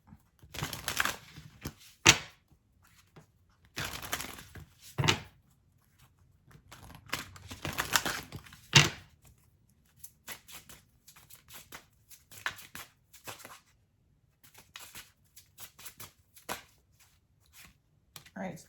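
Tarot cards being shuffled and handled during a reading, giving scattered bursts of riffling and soft flicking that come and go at close range, with quiet pauses between and faint talk in places.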